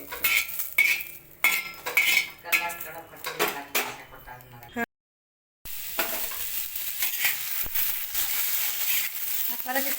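Green chillies being roasted and stirred in a pan for a village-style chutney, with repeated metallic scraping and clinks of a utensil against the pan over a steady sizzle, broken by a brief gap of silence.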